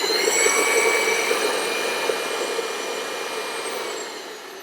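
A Redkey F10 cordless upright vacuum cleaner running, a steady high-pitched whine with a motor hum, loud and continuous, easing slightly toward the end.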